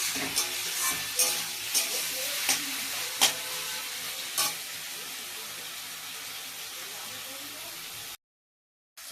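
Curry sizzles steadily in a hot pan in a home kitchen, a loud continuous hiss broken by sharp scrapes and clatters of stirring, with a brief drop to silence near the end.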